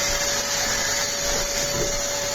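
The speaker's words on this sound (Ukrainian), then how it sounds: "Щоб генератор даром не працював, Оля полососа." A vacuum cleaner runs steadily and fairly loud without pause, used during drywall partition work in a second-floor bathroom while a generator powers the site; a constant broad whoosh with a thin steady whine.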